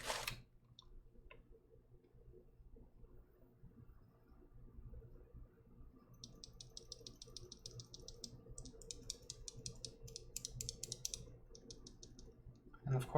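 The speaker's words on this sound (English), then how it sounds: "Zealios, good old tactile purple Zealios." Typing on tactile purple Zealios mechanical keyboard switches, a quiet run of fast, clustered clicks and clacks in bursts that grow busier toward the end, over faint background hiss.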